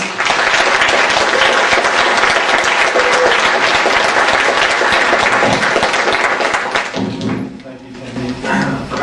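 An audience applauds a keynote speaker at a formal gathering, a dense, loud wash of clapping from many hands that runs steadily, then thins and fades toward the end.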